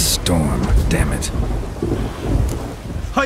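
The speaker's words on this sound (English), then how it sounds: "A storm, damn it." A thunderstorm in The Witcher 3 brings heavy rolling thunder over a wash of rain, loud and close, with rumbling bursts and a few sharp cracks.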